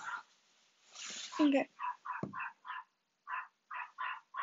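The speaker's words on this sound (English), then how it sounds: "If you hear barking in the background" A dog barks in the background of a home gaming session: a string of short, fairly faint yips and barks in an uneven rhythm, following a brief spoken word.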